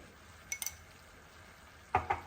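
A spoon stirs tomato paneer curry in a pan, giving a few soft scraping clinks in two brief clusters over a quiet sizzle-free background.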